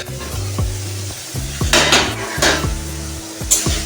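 A lid comes off a cooking pan of tomato spice masala, with metallic clanks and knocks of cookware and a bright rattle over faint background sizzle.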